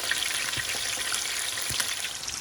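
Soft, steady sizzling hiss of stuffed bitter gourd frying in oil, with faint crackles and pops scattered through it.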